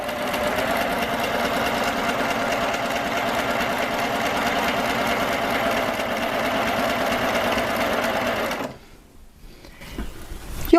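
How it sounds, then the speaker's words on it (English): A sewing machine runs a narrow cover stitch in the air with 12 weight cotton thread, a steady close mechanical whir lasting most of the stretch before it stops abruptly near the end. "I have the machine all set up, and I'm just going to stitch a narrow cover stitch in the air."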